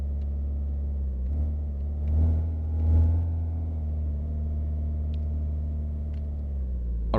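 A damaged car from the game My Garage drives along at a steady pace, its engine a low, continuous drone that swells gently twice and carries no voices.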